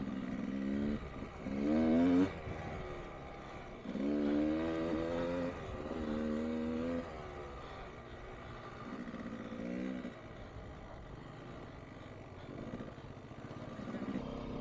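A Kawasaki KDX 200 two-stroke dirt bike being ridden, its engine rising and falling in several revving bursts with short gaps of lower throttle between them.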